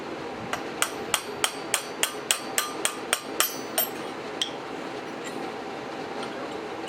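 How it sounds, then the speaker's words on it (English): Light hammer blows strike a steel punch, driving a snug bolt through holes in a Kubota hydraulic coupler guard; about eleven sharp, evenly spaced taps ring out close and clear in a quiet workshop, then stop. "I go grab a punch and it is just a nice light tap"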